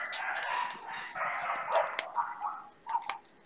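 Dogs bark and yip indoors at moderate distance, a string of short uneven barks with some whimpering tones between them.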